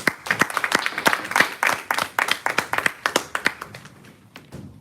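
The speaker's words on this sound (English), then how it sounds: "With a resounding round of applause, please help me make welcome to Toastmaster of the Day, Toastmaster Irade." Small club meeting audience claps to welcome the evening's host, crisp individual hand claps from a modest group, rhythmic at first, then thinning and fading out toward the end.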